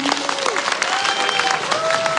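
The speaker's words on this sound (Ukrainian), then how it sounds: "Друзі, дякую Оксанці від себе, від вас, бурхливі оплески" Short burst of audience applause at a company conference, clapping with scattered sharp claps, while a voice or whistle-like tones rise faintly over it.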